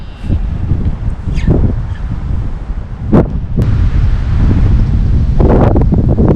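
Strong wind blows steadily across a lakeside fishing spot, buffeting the microphone with a loud, continuous rumbling roar and a few sharper gusts. No one speaks.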